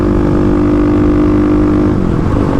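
A 35 hp Kawasaki KLX351 motorcycle climbs uphill in sixth gear, its engine chugging along in a steady, loud, close drone that holds its pitch without any downshift.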